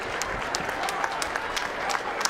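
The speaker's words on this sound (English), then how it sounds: "a round of applause for both of the fighters in this ring" A boxing crowd applauds both fighters in the ring after a ten-round championship bout, a steady wash of clapping with sharp individual claps and a few shouts standing out.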